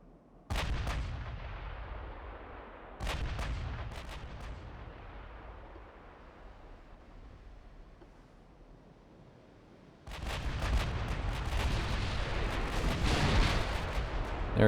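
Upgraded battleship naval guns fire in the naval warfare game Ultimate Admiral Dreadnoughts, heavy booming salvos in a few separate bursts with long rumbling decay, then a dense sustained roar of fire near the end.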